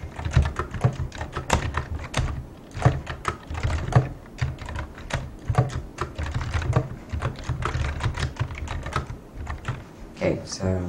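Steady clicking of keys on a computer keyboard as commands are typed at a Command Prompt, with irregular bursts and short pauses; close and moderately loud with no talk.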